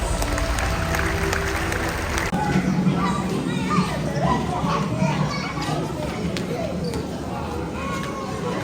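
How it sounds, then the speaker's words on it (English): Children in an audience at a bird show applaud and chatter, a lively mix of clapping and young voices following music that cuts off early. "Let's give them a big round of applause."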